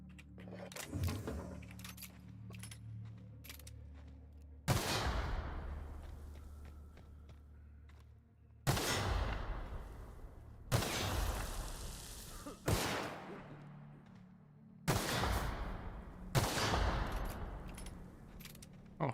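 Pistol shots in the video game The Outer Worlds, a handful of sharp, loud reports spaced several seconds apart, each trailing off in a long ringing decay.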